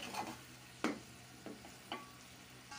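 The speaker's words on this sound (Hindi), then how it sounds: "5 मिनट के लिए इसको भुनाई करते हैं।" Beef in masala is stirred and fried in a pot as a faint sizzle, with a few distinct scraping strokes of a spoon at irregular intervals and no talk.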